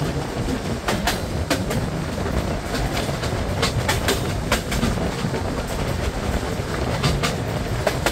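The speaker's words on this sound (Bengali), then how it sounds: "ট্রেনটি এখন থ্রুপাস করে যাচ্ছে সরদাহ রোড রেলওয়ে স্টেশন।" A train rumbles through Sardah Road railway station without stopping, a steady roar and rhythmic clickety-clack of wheels over rail joints, loud and continuous throughout.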